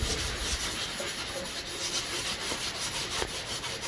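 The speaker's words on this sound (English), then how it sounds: "So always go sand with the grain." Wood sanded by hand along the grain while making wild rice knockers, a steady close scratchy rubbing that runs without a break, with no talking.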